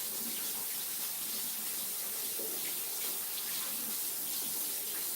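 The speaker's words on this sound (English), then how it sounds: "I got hot water going here" Hot water runs steadily from a tap over shells resting on a metal screen, a constant close hiss and splash with slight gurgling variations and no talking.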